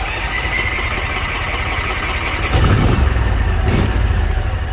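An Argo 8x8 amphibious vehicle engine fires up after sitting unused for ages and settles into a steady, loud, close running note, getting louder and rougher partway through as it revs.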